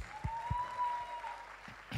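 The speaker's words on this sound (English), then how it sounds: "A big round of applause for these young boys." Audience applause for young boy performers at a home-decor brand launch event, a sustained round of clapping with a few louder low thumps and a faint tone ringing through it.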